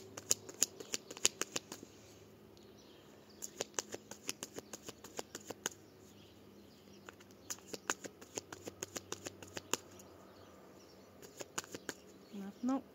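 A deck of tarot cards is cut and handled, giving rapid crisp flicks and snaps in bursts with short pauses, close and fairly quiet.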